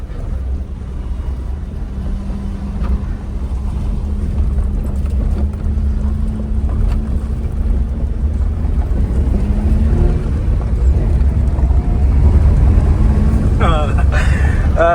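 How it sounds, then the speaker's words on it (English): A Suzuki Jimny kei car driven fast, a steady low engine and road drone with heavy wind rush building over the run, and someone talking over it. "Feels good to go fast and I'm in a Jimny"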